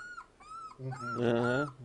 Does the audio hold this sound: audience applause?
no